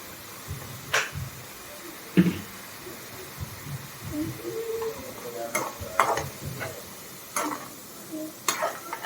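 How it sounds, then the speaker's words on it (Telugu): Paneer pieces frying in a little oil in a pan for paneer curry: a soft, low sizzle broken by intermittent scrapes and clinks of stirring. "అదిగోండి చూడండి, వేపుతున్న పన్నీర్ ముక్కలు గుమగుమలాడిపోతుంది."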